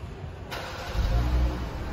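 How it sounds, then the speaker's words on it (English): A 2015 Jeep Cherokee Latitude engine cranks and catches via remote start, with a brief starter whir followed by a low, steady idle rumble, heard close and without talk. "Vehicle starts right up."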